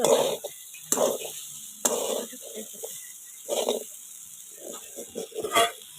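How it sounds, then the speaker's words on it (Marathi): Vegetables are stirred in a pan, giving repeated scraping, clattering bursts under a steady high hiss while someone talks in between. "असं हलवून घ्यायचं हलवत राहायचं नाहीतर करपता येते खालन"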